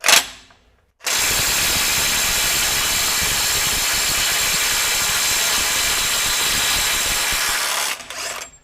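A RIDGID SubCompact impact wrench runs at its 500 foot-pound setting, hammering with a loud, steady, buzzing rattle for about seven seconds. It starts abruptly, cuts off sharply, and is heard alone and close up.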